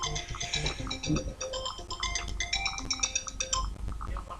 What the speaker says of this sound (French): j'ai un coup de fil, faut que je décroche